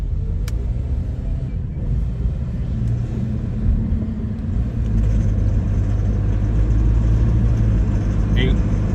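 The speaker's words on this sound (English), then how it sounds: "I'm gonna try to push the gas, the gas pedal" 2014 Hyundai Sonata engine rumbling steadily as the gas pedal is pressed, with a faint rise toward the end, up close under low interior noise. The car has a knock fault and code P1326.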